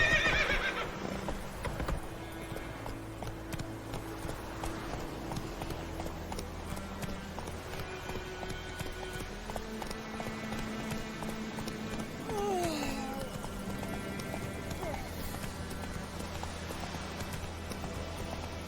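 Roach, the horse in The Witcher 3, galloping: steady hoofbeats drive on over a sustained musical score, with a neigh near the start and another whinny partway through, fairly quiet overall.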